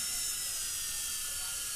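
A dental drill whines steadily at high pitch as it grinds a groove into an implant abutment, a continuous close hiss with no pauses.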